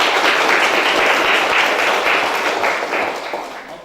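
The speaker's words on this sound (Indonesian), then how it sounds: "Tepuk tangan dulu dong." A class of students claps their hands together, a close, dense burst of clapping that holds steady and fades slightly as it winds down.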